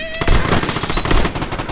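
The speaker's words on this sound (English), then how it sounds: "Guys, stop trying to shoot me" Rapid automatic gunfire in the online shooter Vigor, a loud, dense burst of close shots fired in quick succession without pause.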